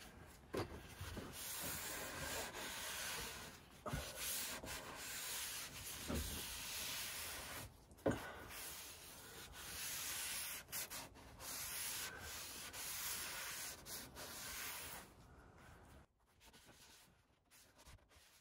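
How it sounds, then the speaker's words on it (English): Wood sanded by hand with 80 grit sandpaper on an off-grid cabin, a continuous close scratchy hiss in long back-and-forth strokes with brief pauses, fairly quiet and with no talking. "So I gotta resand this to get some Odie's oil on it"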